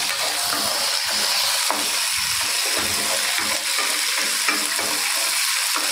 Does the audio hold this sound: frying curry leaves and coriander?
yes